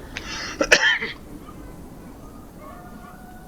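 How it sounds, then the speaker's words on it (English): A single short, sharp cough from a character in the video game ATOM RPG bursts out near the mic, then fades into quiet room noise. "And I'm coughing."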